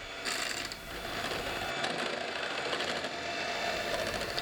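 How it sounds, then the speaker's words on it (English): An electric whisk on its lowest speed beats egg yolk and mustard in a bowl, giving a steady close mechanical whir with faint rattling, with no talk over it. "whisk egg yolk using the lowest speed of the electric whisk"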